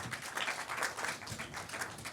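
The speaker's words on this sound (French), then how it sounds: "Merci beaucoup, on vous applaudit." An audience at a health policy meeting gives a faint, fairly distant round of clapping with an uneven rhythm, heard alone without talk.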